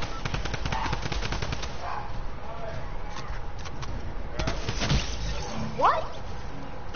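Rapid bursts of automatic gunfire from a drum gun in a Fortnite-style shooter game, sustained volleys in the first seconds, then scattered shots amid game noise, with a player talking over it.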